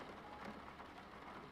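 Steady rain streams against a window glass on a quiet night, a soft, even hiss with faint patters throughout, low and continuous with no voices.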